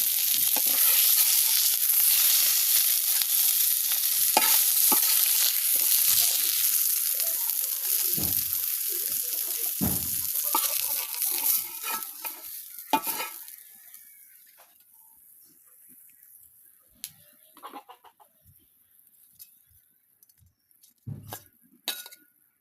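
Taki fish frying in a wok over a clay stove, a loud sizzle stirred with metal clinks and scrapes that fades to quieter scattered knocks and clinks.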